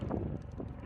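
Gusty wind buffets the microphone outdoors at a shooting range, a steady low rumbling roar with no one speaking.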